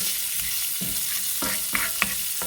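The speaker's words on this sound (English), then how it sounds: "Get these onions sauteed up." Onions sauteing in a hot pan, a continuous sizzle broken by several stirring scrapes and clicks near the end; close and fairly loud, with no voices.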